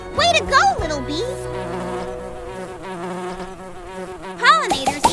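Cartoon bee buzzing in a children's nature video game, a short nasal drone that swoops in and out at the start and end, with a sustained tone underneath.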